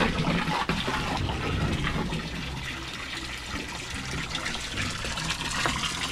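Water pours and rushes in a steady, close, splashing stream that continues without a break.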